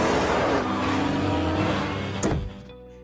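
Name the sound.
cars racing in a street race, film scene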